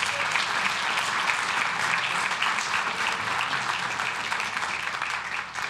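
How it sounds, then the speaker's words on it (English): Loud, sustained applause from the audience at a city council meeting, a dense, continuous wash of clapping close by, easing slightly only at the very end. "Let's give Dr. Perez, the superintendent from Santa Ana Unified, a round of applause."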